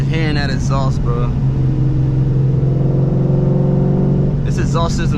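A 2014 Ford Mustang GT engine revs loudly through its exhaust with a deep, steady drone that rises in pitch, while a person talks briefly at the start and end.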